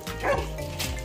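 A dog barks and yips in quick, loud bursts close by, with whimpering tones mixed in, inside a home shared with several dogs.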